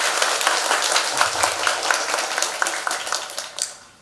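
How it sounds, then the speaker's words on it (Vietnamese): Steady applause from a large church congregation at a thanksgiving Mass for a newly ordained priest fills the room, a dense wash of clapping that holds strong and then tapers slightly at the end. "xin cộng đoàn nổ một tràng pháo tay nồng nhiệt để chúc mừng cha."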